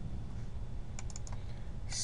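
A few quick clicks of keys pressed on a computer keyboard while entering a shortcut, close and crisp against a low steady hiss, with no talking.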